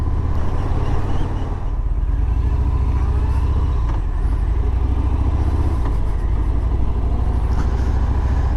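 A 2019 Harley-Davidson Fat Bob 114 rumbles along on a ride, its deep engine drone loud and steady throughout, with wind noise over it and no talking.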